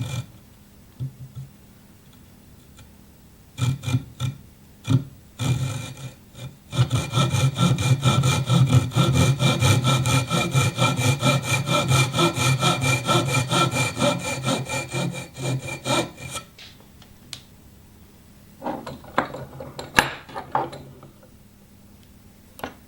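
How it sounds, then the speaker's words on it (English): Hand saw cutting wood for acoustic guitar braces, steady back-and-forth rasping strokes close up for about ten seconds, preceded and followed by a few scattered knocks and scrapes, with no talking. "This saw sure does cut good."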